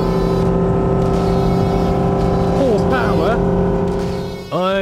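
A motorboat engine drones steadily, loud and close, with a voice briefly audible over the hum before the engine note shifts at the end.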